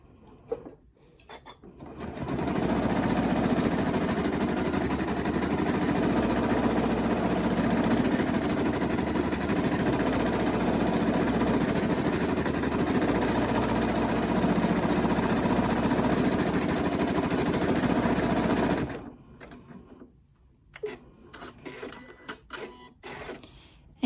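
A sewing machine runs steadily for about sixteen seconds while stitching a free-motion variable zigzag, its motor hum and rapid needle rhythm loud and close, then stops, leaving quiet handling noises.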